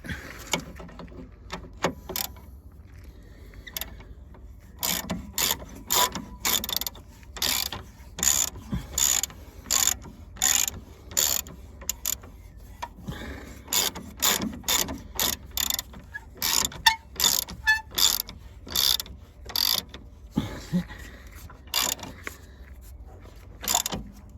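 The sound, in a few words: ratchet tightening Jeep Grand Cherokee lower suspension arm bolts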